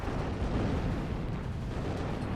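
A snitch bomb detonating in the Zero-K strategy game, a sustained low rumbling boom that fills the whole moment, dense and steady rather than a single sharp crack.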